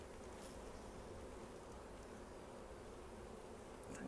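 Honey bees hum in a steady, dense drone around an open, busy hive in a UK apiary after a move, a constant broadband buzz with no voices.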